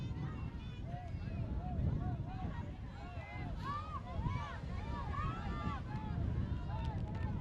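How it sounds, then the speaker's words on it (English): Strong wind buffets the microphone outdoors at a women's Ultimate frisbee match between the Philippines and Singapore, a steady low rumble running throughout with a commentator talking over it. "As we said, there is a strong wind."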